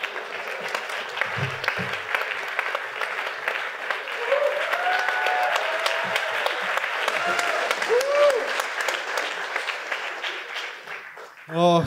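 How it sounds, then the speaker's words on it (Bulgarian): Sustained audience applause with cheering and whistles fills a comedy roast event in Bulgaria, loud and continuous for about twelve seconds, with a sharp burst near the end. "Хора, бурни аплодисменти за Филип!"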